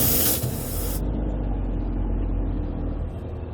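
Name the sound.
air hissing from RV tire valve while threading TPMS sensor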